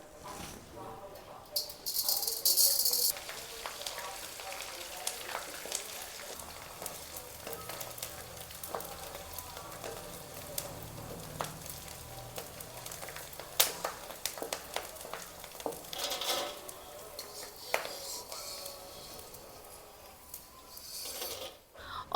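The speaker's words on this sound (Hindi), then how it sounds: "तो चलिए घी हमारा गर्म हो चुका है। अब इसमें हम डालते हैं गोंद। थोड़ा थोड़ा गोंद डालेंगे और इसको भूनेंगे।" Edible gum (gond) frying in hot ghee in a kadhai: a steady crackling sizzle with scattered pops, broken by a few brief clinks and stirring noises, running continuously through the clip.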